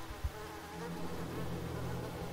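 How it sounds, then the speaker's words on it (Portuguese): Mosquitoes buzz in a steady, close drone in the video game Stowaway, filling the whole stretch with a continuous whine and no talk. "esses mosquitos, velho"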